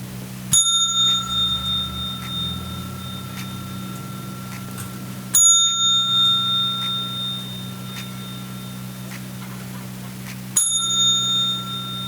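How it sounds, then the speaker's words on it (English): Three separate bicycle bell rings spaced roughly five seconds apart, each a bright, clear ding that rings on and fades over a low steady background hum. "give me 3 bells for Cast Pro,"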